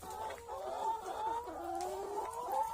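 Laying hens on a farm cluck softly in a quiet, steady run of overlapping calls, fairly faint and without any talking.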